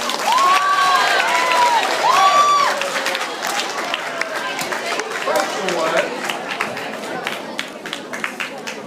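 Audience at a question-and-answer session clapping and cheering, with whoops and crowd chatter, the applause strongest at first and then thinning into scattered claps and murmuring voices.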